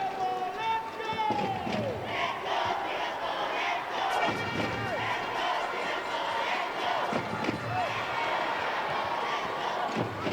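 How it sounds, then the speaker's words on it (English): Crowd noise at a men's wheelchair basketball game between Thailand and Singapore at the ASEAN Para Games, a steady loud indoor roar with shouts and scattered thuds, commentary voices running over it throughout. "Support from the crowd never wavering at any point."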